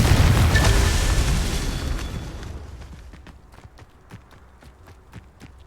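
A Confringo fire spell bursts in the video game Hogwarts Legacy: a loud, booming blast that fades over about two seconds, followed by quieter, rhythmic footsteps.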